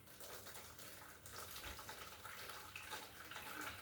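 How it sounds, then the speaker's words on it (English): Water gushes steadily into a big pot of moi-moi, a continuous pouring splash that swells slightly partway through, fairly faint and alone without talk. "I'm going to just add water."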